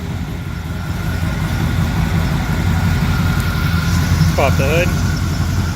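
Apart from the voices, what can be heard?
454 engine idling in 1947 Chevrolet Thriftmaster pickup truck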